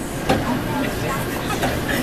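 An airport train idles at a station platform in Denver International Airport, a steady rumbling hum with faint clicks and mechanical noise, no distinct voices in the clip.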